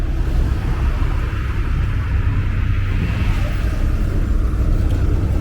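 Busy street traffic rolls along 18th Avenue in Bensonhurst, Brooklyn, a steady, dense rumble of passing cars with no voices.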